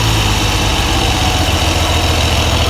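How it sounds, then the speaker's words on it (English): A 1969 Triumph Trident triple motorcycle engine idles after a tune-up, with a loud, steady, close rumble that holds evenly throughout. "It's idling."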